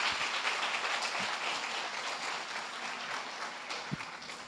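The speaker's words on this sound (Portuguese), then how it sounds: "Dá uma salva de palmas" Brief, steady applause rises from a church congregation at a Portuguese-language service, moderately distant and dense, fading slightly toward the end.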